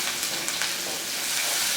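Chopped onion and two whole dried red chillies frying in a pan, giving a steady, close sizzle and crackle of hot oil that holds at an even level throughout, with no voices.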